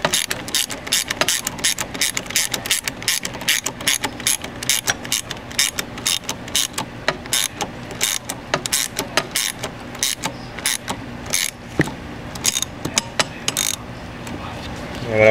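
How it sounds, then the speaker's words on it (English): A hand ratchet tightens bolts on a 6.0L Powerstroke diesel truck, giving rapid close clicking in repeated runs with short pauses between strokes over fifteen seconds. "Just working on these bolts."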